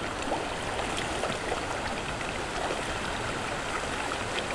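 Steady broadband rush of flowing water at a freshwater fishing spot, a continuous close-by stream sound with no breaks and no voices.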